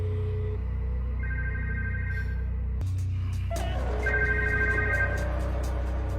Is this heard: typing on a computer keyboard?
no